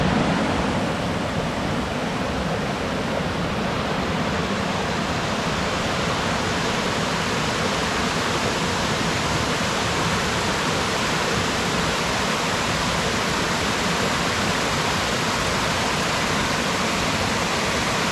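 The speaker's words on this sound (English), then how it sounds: "this is West Burton Falls, or there's a sign down there that says it's also known as the Cauldron Waterfalls." West Burton Falls, also called Cauldron Waterfalls, roars in a steady, dense rush of falling water that stays loud and unbroken throughout, with no voices.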